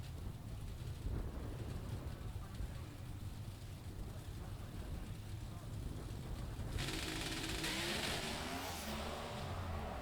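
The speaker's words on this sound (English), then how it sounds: "Greg Anderson rattles the tires." Greg Anderson's Pro Stock drag race car launches at Las Vegas Motor Speedway, a distant engine roar that swells into a louder, harsher burst partway through, with faint crowd and announcer-like background noise.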